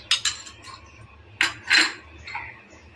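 A metal spoon clinks and scrapes against a pot while ginger garlic paste is added for Kolkata-style chicken rezala, giving a few sharp close taps and brief scrapes in a quiet kitchen.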